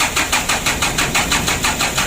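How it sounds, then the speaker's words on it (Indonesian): A rebuilt Mitsubishi 4D34 diesel engine runs with a loud, rhythmic chugging knock, steady pulses about every few tenths of a second, close and harsh with no talking. "Lanjut kita hidupkan mesinnya."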